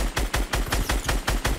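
Rapid gunshots in a video game, about nine sharp, evenly spaced shots fired in quick succession at close range, loud and without talk.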